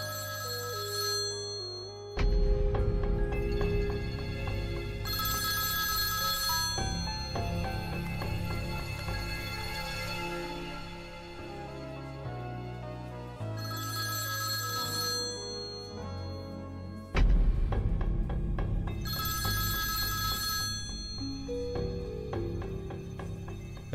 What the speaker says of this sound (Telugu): నాన్నే ఫోన్ చేస్తున్నారు, మీతోనే మాట్లాడాలన్నారు.